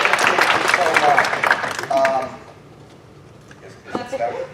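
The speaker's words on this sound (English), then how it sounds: "Give yourselves a round of applause for being here today." Audience members at a fantasy literature panel on audiobooks clap for themselves, a short, loose burst of applause that fades quickly. Voices and light laughter follow after a quiet gap.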